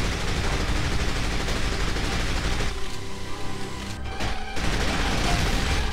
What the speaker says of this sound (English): now I'm gonna get some shots in